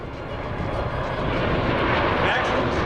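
Loud, low roar of a U.S. Marine Corps MV-22 Osprey tiltrotor in airplane mode passing close at EAA Oshkosh AirVenture 2014, a dense rumbling engine and rotor drone that swells as it approaches.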